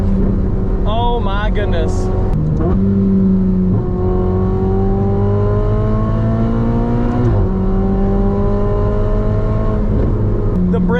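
Ferrari 488 Spider, a 660-horsepower rear-wheel-drive car with carbon ceramic brakes, downshifting through the gears on a Las Vegas desert road: loud, close engine revs that blip and fall repeatedly, with a short excited exclamation from the driver.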